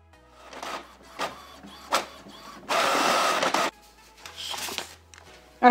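A home printer running off template pages for a balloon garland, whirring in short mechanical bursts with a longer steady feed run in the middle, separated by quiet pauses.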